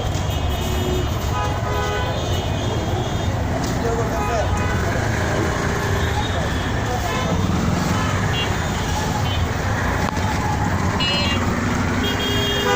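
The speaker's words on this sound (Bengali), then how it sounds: "অথচ পাশ দিয়ে গাড়ি চলছে" Heavy traffic flows through the busy Gulistan area of Dhaka as cars and buses pass continuously with repeated horn toots, under a constant roar and a background murmur of voices.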